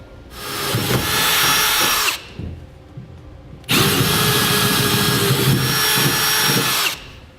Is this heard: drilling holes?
yes